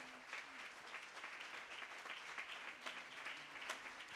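A church congregation applauds God, steady dense clapping from many hands sustained throughout, fairly faint and distant.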